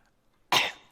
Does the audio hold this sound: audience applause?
no